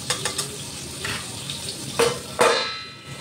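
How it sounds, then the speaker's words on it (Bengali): Vegetables fry in an oiled pan with a soft, continuous sizzle, broken by a few clinking stirs and scrapes of a utensil. The last stir is the loudest, and no one speaks. "এইরকম ভাজা তো হচ্ছে"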